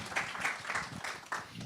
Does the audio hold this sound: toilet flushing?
no